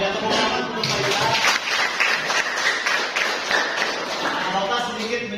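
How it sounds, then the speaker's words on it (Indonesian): Clapping from a classroom group rings out for Faisal, dense and steady for several seconds and fairly close. It mixes with voices talking throughout. "tepuk tangan untuk Faisal"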